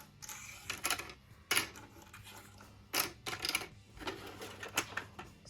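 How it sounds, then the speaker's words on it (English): Coins dropped into a plastic dollar-store toy cash register, a series of quiet, close clinks and clatters in irregular bursts with short pauses between. "we're gonna put all the coins here"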